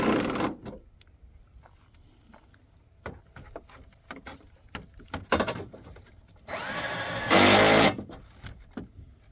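A weak power drill whirs in short bursts between clicks and clatter while tightening a headlight assembly on a 2008 Toyota Land Cruiser 200, ending with a longer, louder run as a fastener is driven in.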